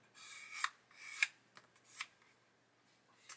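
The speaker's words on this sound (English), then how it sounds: "And then again with the sander, just go over the top." Sanding tool worked over a plastic part of a 1/24 Airfix Spitfire Mk.IXc model kit makes a few faint, short, close scratchy strokes separated by quiet gaps.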